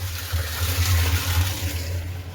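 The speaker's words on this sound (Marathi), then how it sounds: "झाडांना पाणी द्यायचंय" Steady rush of running water close by, a continuous splashing flow with a low hum underneath, no voices.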